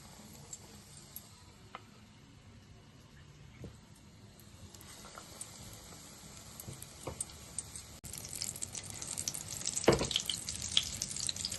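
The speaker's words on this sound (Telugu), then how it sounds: "ఆయిల్ అయితే వేడవుతుంది. మనం ఇప్పుడు ఎగ్ బజ్జీ వేసుకుందాము." Egg bajji battered eggs dropped into hot oil on a stove, a soft steady sizzle that swells louder and crackles more densely in the final seconds as the fritters go in.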